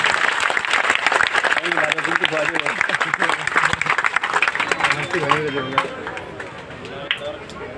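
Applause from a crowd at an outdoor gathering, close and steady at first and then gradually thinning, with voices and murmuring heard alongside the clapping.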